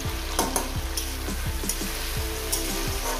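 Salted yardlong beans fry in hot oil in a pan, giving a steady loud sizzle broken by a few sharp scrapes and knocks of stirring.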